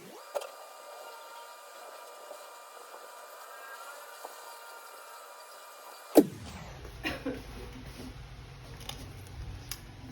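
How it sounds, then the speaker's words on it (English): A sewing machine stitches through a thin paper booklet, starting with a loud snap, then a steady mechanical whir with small clicks running close up with no talking. "let me just go ahead and do the sewing"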